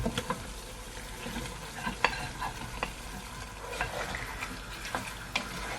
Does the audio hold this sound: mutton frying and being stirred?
yes